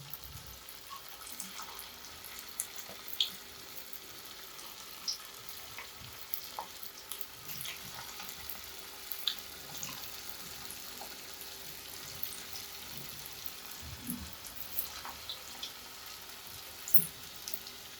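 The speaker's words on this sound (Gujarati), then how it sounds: "મિત્રો, તેલ આવી ગયું છે, આપણે મંચુરિયનના બોલ્સને એક પછી એક એડ કરી અને આપણે ફ્રાય કરી લઈશું।" Manchurian balls sizzle in hot oil in a home kitchen, a faint, steady frying hiss with scattered small pops and crackles and occasional soft clinks, with no talking.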